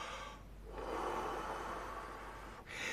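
A sustained, forceful exhalation blown steadily onto a sheet of paper, a close, breathy rush of air lasting a couple of seconds, bracketed by short pauses for inhaling.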